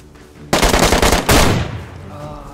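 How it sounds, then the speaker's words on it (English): A fast burst of automatic gunfire in the game DayZ on the Livonia map, loud and close, then a second shorter burst, with a lingering echo afterward. "I shot him a couple times"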